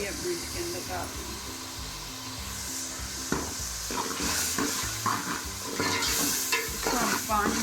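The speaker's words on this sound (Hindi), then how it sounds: "इसको हम 5 मिनट के लिए भूनते हैं।" Onion with ginger-garlic paste, salt and red chili fries in a pan, a constant sizzle broken by repeated stirring scrapes and clinks as a person talks over it.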